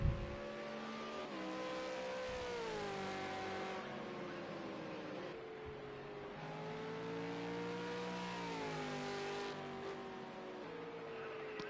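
A race car in a NASCAR-style Grand National division race at Sonoma Raceway drones past at a distance, its engine note rising and falling through shifts and revs in a steady, continuous roar with no talk.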